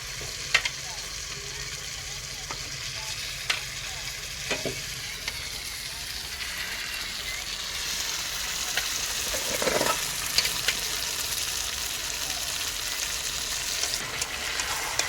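Duck meat sizzles loudly in hot oil after fried onion, ginger and garlic, a constant bright crackle with occasional clinks of a utensil stirring the pan.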